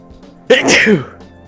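A single loud human sneeze, close and sudden, rising sharply and then trailing off in a quiet room.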